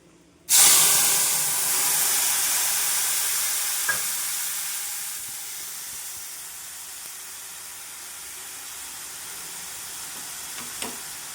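A spice paste of cumin and coriander mixed with water and green chilli paste hits a hot pan with a sudden loud hiss, then settles into a steady fading sizzle with a couple of faint utensil taps, no voices.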